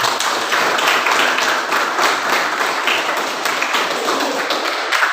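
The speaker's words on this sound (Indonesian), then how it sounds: "tepuk tangan dulu buat kita semua" A class of students applauds together, a dense, steady burst of many hands clapping at close range that holds evenly throughout with no talk over it.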